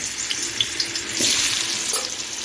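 Turmeric- and salt-coated potato pieces fry in white oil in a wok, a steady close sizzle and crackle with occasional louder pops and stirring scrapes, no voices.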